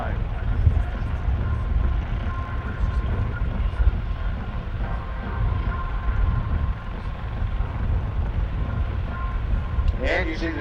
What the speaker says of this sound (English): These helicopters from here, of course, known as the Outlaw, the Griffin